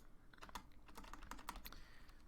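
Quiet, quick keystrokes on a computer keyboard as an email address is typed, a steady run of light clicks with no talking.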